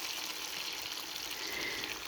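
Yam chips frying in hot oil for fried yam, a steady dense hiss and crackle of bubbling that holds evenly throughout, close and moderately loud with no talking.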